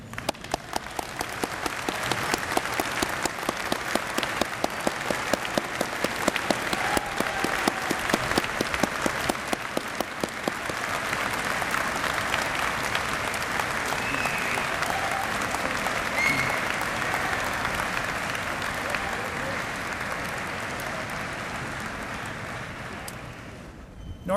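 Graduates applauding family and friends at a University of Waterloo convocation ceremony, a long sustained wash of clapping from a large indoor crowd that swells, then gradually fades toward the end.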